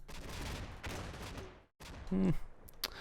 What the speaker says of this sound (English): We can actually see the vehicle, but also the grenades coming in.